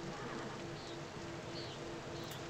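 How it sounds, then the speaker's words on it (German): Steady, soft rain falls in the medieval video game Pentiment, a continuous quiet hiss with faint chirps over it and no talk. "Der Regen macht hier alles zu Schlamm."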